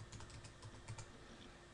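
A Windows 7 computer keyboard is typed on in a short burst of quick, close, light key clicks against a steady hum, with no talking.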